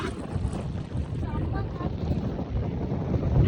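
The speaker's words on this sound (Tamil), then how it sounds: "காற்று இப்படி அடிக்குது." Strong wind gusting across an exposed mountain top, a steady loud roar buffeting the microphone throughout, with faint voices underneath.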